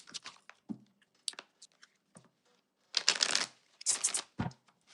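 Oracle cards are shuffled close up in short bursts of crisp riffling and flicking, with quieter pauses between the louder shuffles and no talking.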